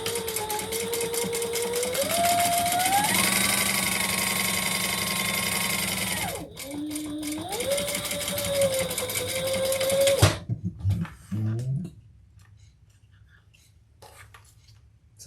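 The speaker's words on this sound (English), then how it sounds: "we're going to sew that together" Sewing machine running a seam on a fabric bag, a close whirring motor that rises and falls in pitch over two long runs, then short stuttering stops and quiet handling noise.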